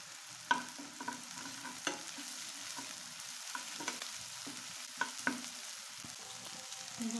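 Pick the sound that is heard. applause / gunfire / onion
onion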